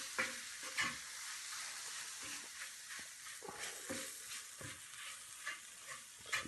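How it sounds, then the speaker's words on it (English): Sausage browning in a pan for gravy, a soft, steady frying hiss punctuated by light scrapes as it is stirred, faint and close. "we're going to brown this into our sausage"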